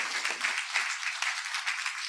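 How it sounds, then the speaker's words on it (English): A workshop audience claps for a speaker after a sustainability-labelling talk, steady broadband clapping over two seconds with no voices. "I would like to ask you to join me in an applause to Emilie"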